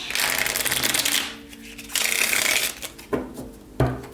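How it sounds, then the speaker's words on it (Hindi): A tarot deck is shuffled in two long riffling bursts, followed by a few sharp card taps and slaps, close and crisp with no talking. "ये जो डेक है मैं बहुत कम इस्तेमाल करती हूँ"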